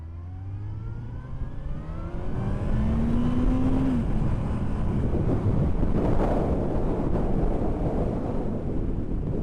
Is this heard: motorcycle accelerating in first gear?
yes